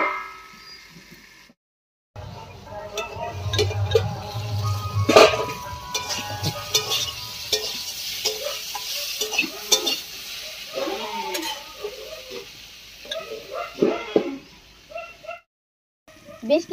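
Winter vegetables with turmeric and salt fry in a little oil in a pan, with a continuous sizzle punctuated by scraping stirs and occasional clinks of utensil on metal, close and alone.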